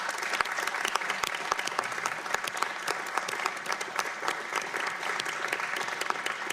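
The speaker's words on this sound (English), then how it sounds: "I hope that everyone will join me in a round of applause to thank you for your service to the Judiciary Committee" Applause in a House Judiciary Committee hearing room thanks a departing member: dense, even clapping from many hands that carries on steadily for several seconds, moderately distant.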